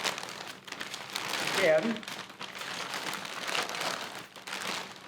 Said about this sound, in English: Unwrap it.